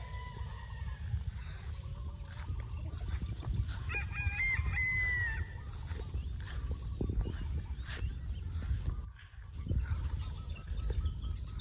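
Hens and a rooster in a poultry yard cluck steadily while the rooster crows once clearly mid-way, over a low background hum, with other birds faintly audible.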